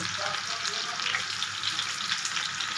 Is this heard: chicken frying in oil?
yes